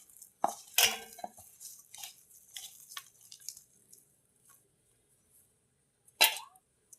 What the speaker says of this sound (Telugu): మొత్తం మీకు చూపించిన కారం అంతా వేసేసాను. బాగా ఇలా కలుపుకొని